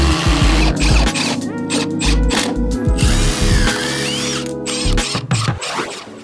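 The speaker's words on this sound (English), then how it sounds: "I'm gonna just drill a hole here to start." Power drill boring a hole into pressure-treated lumber while framing a porch, loud and close, in several bursts of whirring with stops and restarts.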